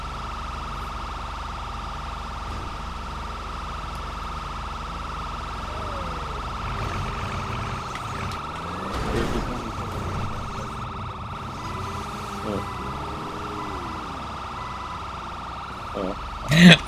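A police car siren wails in a driving video game, its rising and falling sweeps fairly faint and steady behind quiet game sounds, with a louder burst near the end.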